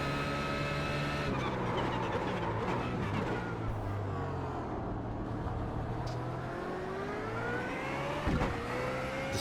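A GT3 race car in iRacing powers out of a corner at the Montreal circuit, its engine droning loud and steady with rising harmonic pitch as it accelerates, a brief shift near the end, with no voices.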